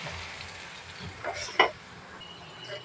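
Onions sauté in a pan for a prawn curry, with a soft continuous sizzle and a sharp spatula scrape midway. It is fairly quiet and close, with no voices.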